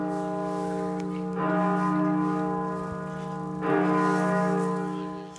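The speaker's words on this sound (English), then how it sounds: "the bell at York Minster tolled 99 times to mark the Duke's 99 years" The great bell of York Minster tolls to mark a royal death, with two slow, heavy strikes whose deep ringing hum sustains and overlaps between blows, resonant and fairly distant, with no voices.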